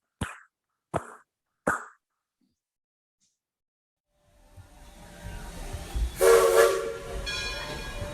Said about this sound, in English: The train is now leaving the Interpretation